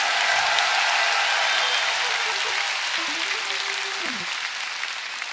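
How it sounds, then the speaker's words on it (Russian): A church congregation breaks into sustained applause, a dense wash of clapping that carries on steadily and slowly fades, with a faint tone sounding near the end. "А давайте хорошие аплодисменты Богу дадим."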